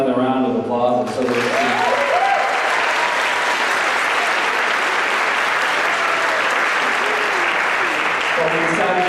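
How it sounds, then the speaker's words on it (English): An audience at an El Sistema youth music concert bursts into sustained, loud applause for the string group, and a voice speaks briefly just before the clapping swells and fills the rest of the clip. "can we give those strings another round of applause?"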